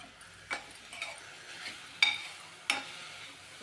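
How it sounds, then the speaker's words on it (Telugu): Milk is stirred into a dish in a cooking pan, with soft low sizzling and a few sharp clinks of the spoon against the pan at irregular moments, quiet and close. "దీన్ని బాగా కలిపేసి"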